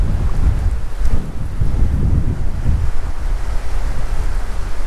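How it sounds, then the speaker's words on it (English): Steady gusting wind roars over open water at a fishing river, a loud continuous rush with low rumbling buffets on the microphone and no voices. "The wind is picking up here."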